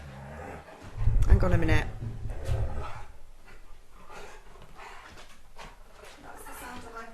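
A husky lets out a burst of high, whiny yips and moans, close and fairly loud, with a person talking before and after.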